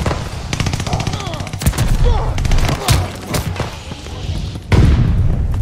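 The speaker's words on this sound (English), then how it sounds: "Watch the stun grenade." A stun grenade detonates in a first-person shooter game amid rapid automatic gunfire, with a loud booming burst near the end following steady clattering shots.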